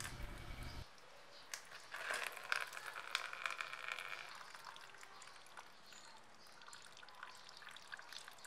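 Petrol poured out to wash a motorcycle carburetor, a faint trickling pour that starts after a brief low thump and runs on quietly as it tapers off.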